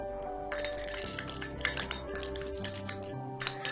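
A spoon stirs a hair pack of sugar and shampoo in a bowl, making close, irregular clinks and gritty scrapes over a steady tonal background.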